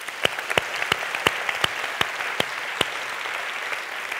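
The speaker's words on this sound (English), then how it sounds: "Big round of applause for them." An audience at a talk applauds, a thin, scattered patter of claps from a fairly small group, with a few sharper individual claps standing out, and no talk.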